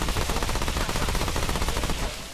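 Sustained rapid-fire gunfire from a weapon in Remnant 2 rattles loudly and up close as a dense, continuous burst. It stops abruptly near the end, with no talking.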